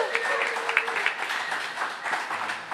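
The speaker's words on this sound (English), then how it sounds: "how about one more round of applause for Rees Shad" Audience applause at a live WDVX Blue Plate Special radio show, brief scattered clapping at moderate volume under an announcer's voice.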